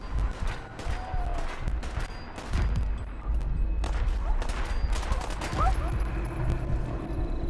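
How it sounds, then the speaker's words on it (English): Scattered gunfire in the video game Fallout 4, with faint shots and bursts crackling in the background under a continuous ambient bed while someone speaks over it. "One of the bastards shot Dogmeat"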